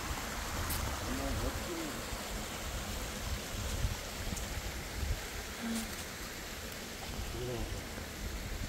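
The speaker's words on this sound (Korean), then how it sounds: "졸졸졸졸졸졸 시냇물 소리" Babbling stream near a temple in an autumn setting, a continuous close trickle and gurgle of water, with a few brief voiced sounds over it.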